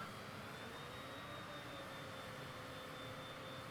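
A fixed-wing airliner taxiing in a flight simulator game, its jet engines holding a steady, even whine with a faint high tone, loud and unbroken throughout with no talking.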